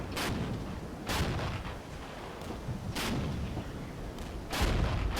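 Artillery counter-battery fire in the war strategy game Regiments, with four or five sharp booming shots spaced about a second apart over a steady low rumble of distant battle.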